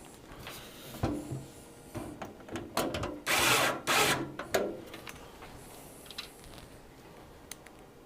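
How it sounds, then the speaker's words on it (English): Short whirring bursts of an electric screwdriver driving screws into a PC case, mixed with scraping, rubbing and clicking handling noises, one longer whir in the middle, close and moderately loud. "if it's your first build, I recommend you don't use an electric screwdriver."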